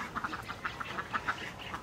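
Ducks quack in a rapid series of short, nasal calls, close by and fairly loud, with no talking.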